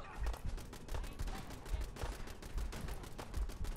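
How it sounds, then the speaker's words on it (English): Rapid gunfire from enemies shooting at the player in Fallout 4, a steady stream of sharp repeated shots at close to mid range, with a voice faintly under it. "They're still shooting at me."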